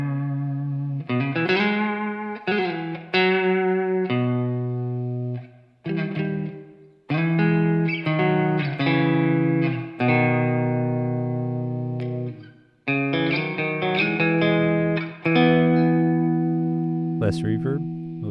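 Electric guitar plays chords and single notes drenched in heavy reverb, each phrase ringing out and washing into the next.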